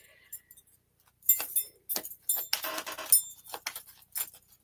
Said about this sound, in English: But I'm gonna pull some more cards on this. Okay, shuffle again.